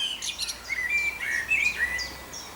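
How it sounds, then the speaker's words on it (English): Birds sing by a roadside, several chirps and short whistled phrases overlapping at moderate distance, continuous across the clip over a quiet background. "With the bird song."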